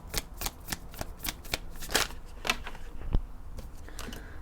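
Tarot advice cards are shuffled close up in quick, steady riffling bursts, each a crisp papery flutter, with no talking over them.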